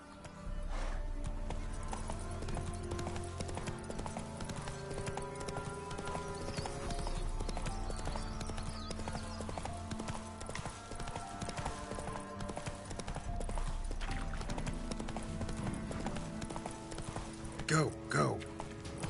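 Horse hooves clip-clop at a steady gallop in The Witcher 3: Wild Hunt, a continuous rhythmic pounding under game music and ambience, with a brief whinny near the end.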